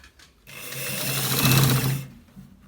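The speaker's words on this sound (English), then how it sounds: "So guys, we are stitching it. We are stitching it to the end part." A sewing machine stitches a collar shirt in one short burst, a rising and falling close whir that runs about a second and a half between quiet moments.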